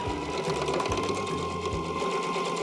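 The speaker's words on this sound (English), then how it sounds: "So let's go over to the sewing machine and sew it up" A sewing machine runs a long continuous seam along a fabric infinity scarf, its steady close mechanical whir carrying throughout with only slight variation in speed.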